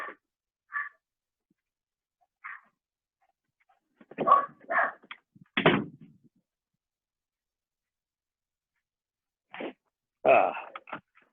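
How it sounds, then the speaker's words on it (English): A dog barks behind a closed door indoors, short muffled barks coming in scattered bursts with long silent gaps between them, a few clustered together mid-way and a louder pair near the end. "Now she can bark at whatever she's barking at and she won't bother us."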